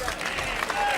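Boxing arena crowd at a fight between William Morris and Roy Anis, a broad, steady roar of cheering and clapping under a commentator's voice, loud and continuous throughout.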